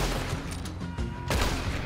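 Burst of gunfire from a Red Dead Redemption 2 shootout, dense overlapping shots over steady game ambience with a louder blast near the end, no talk.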